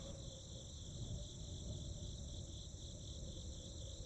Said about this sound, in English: Is chirping sound from over here?